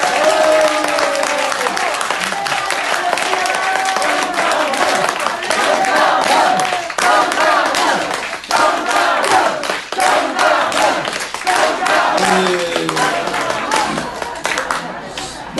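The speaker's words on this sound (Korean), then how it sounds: "힘찬 박수로 맞이하겠습니다." A large crowd gives loud, sustained applause at a patriotic lecture event held for the 70th anniversary of the Korean War, dense continuous clapping with scattered shouts filling the whole stretch.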